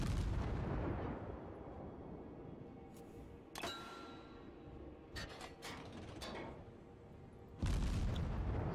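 Naval guns fire in World of Warships battle, the ship's salvos booming as a few heavy, distant-sounding blasts with metallic rumbles trailing between them.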